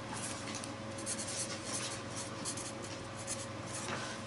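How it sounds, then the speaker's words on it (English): A pen writes a handwritten list, a steady close scratching with continuous strokes throughout, fairly quiet, with a faint steady hum underneath. "now what I'm going to do is I'm going to write the things on here that I need"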